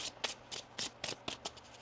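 Tarot cards are shuffled by hand, up close and soft, in a quick rhythmic series of about seven crisp riffling bursts with no talking.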